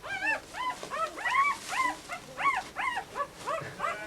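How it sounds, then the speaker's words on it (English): A young puppy on a farm in Cork whimpers and cries for its mother in a run of high, rising-and-falling whines, about a dozen close, repeated yelps with short gaps and no voices over them. "He's crying for his mummy, Emma."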